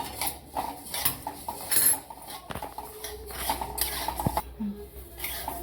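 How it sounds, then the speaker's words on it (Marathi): Urad dal being dry-roasted in a pan, repeated scraping and rattling of the spatula against metal with light grain clatter, close and moderately loud, with a voice briefly speaking. "मी साईडला उटाची डाळ टाकली होती ती पण थोडीशी अजून भाजून घ्यायची"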